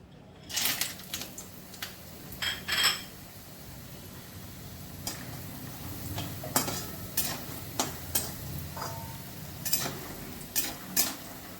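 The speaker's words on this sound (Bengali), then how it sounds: "প্রথমেই আমি বড়িগুলো ভেজে নিচ্ছি।" Lentil dumplings (bori) fry in a pan with a low background sizzle, broken by irregular sharp taps and scrapes of a spatula against the pan, with no voices.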